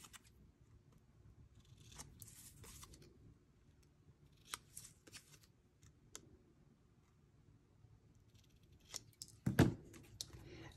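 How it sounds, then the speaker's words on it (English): Scissors snipping through a yellow paper label, with faint close clicks and cuts spread through a quiet stretch and one louder snip near the end. "So I'm going to cut this from here."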